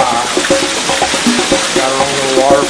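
Small backyard waterfall beside a home pool, a steady close splash and trickle of falling water running under a man's speech.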